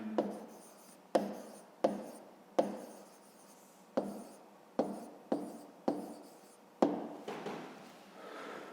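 A pen writes an answer on paper in a series of about ten distinct scratchy strokes with short pauses between them. The strokes are close and quiet, with no talking.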